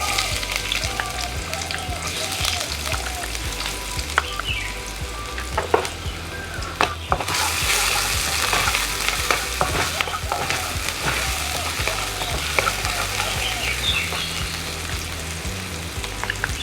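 Chopped onion fries in about two tablespoons of refined oil for an egg Manchurian dish, giving a loud, dense, continuous sizzle with stirring scrapes and occasional clatters throughout, no talking.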